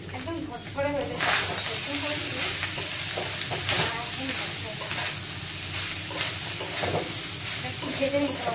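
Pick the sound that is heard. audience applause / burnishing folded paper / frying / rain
frying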